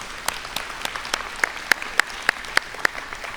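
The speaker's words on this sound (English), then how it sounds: "Can we give all of our mentors a big round of applause?" Applause for program mentors at a Take Stock in Children scholarship awards ceremony, heard as sparse, evenly spaced claps that grow sharper toward the end, fairly faint and without talk.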